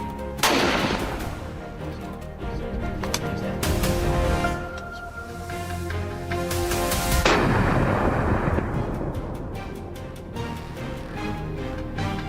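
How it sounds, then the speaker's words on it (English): Gunshots fired at wild boars on a farm at dusk: a loud, sharp blast near the start, a second heavy report around seven seconds, each trailing off in a long rolling echo over steady outdoor background. "The gunshot rang out immediately."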